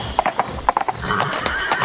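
A racehorse neighs with a shrill whinny while hooves clip-clop in quick, close bursts of hoofbeats.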